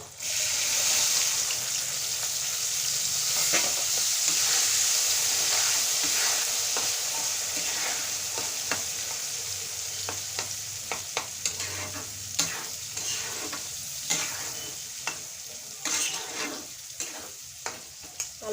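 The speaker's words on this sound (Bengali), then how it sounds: "হলুদ ভালো করে নেড়ে চেড়ে আমি মটরশুঁটিগুলো দিয়ে দেবো" Green peas and turmeric stirred in a frying pan for a pea pickle, a steady close sizzle with scraping stirs and occasional clinks of the utensil against the pan.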